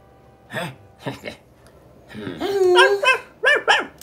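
A dog barks in short sharp bursts, several yaps in quick succession, close and loud, with some whining tones mixed in.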